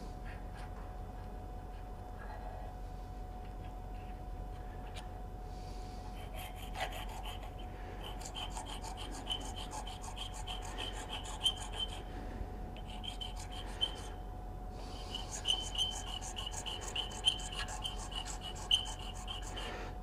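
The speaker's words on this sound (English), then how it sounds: "So the first thing I want to do is get a rasp, and I want to take it down almost as far as I can." A rasp files down a wooden duck call in repeated rough strokes, fairly close and moderately loud, with brief pauses between bursts of rasping.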